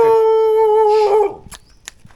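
Dogs on Ko Lan island let out a loud, sustained howl for over a second that breaks into a short whimpering whine, then a few faint, scattered noises.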